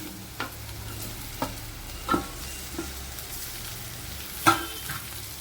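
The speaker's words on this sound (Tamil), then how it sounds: "இப்போ வெங்காயம் நல்லா வதங்கிடுச்சு. இப்போ உருளைக்கிழங்கு சேர்த்துக்கிடுவோம்." Potatoes added to onions frying in a pan and stirred for a Tamil potato stir fry: a steady moderate sizzle broken by several separate spatula scrapes and knocks against the pan.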